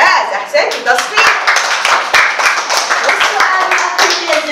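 Students in a science classroom clap together in a lively, slightly uneven burst of close, loud handclaps, with voices speaking over the clapping.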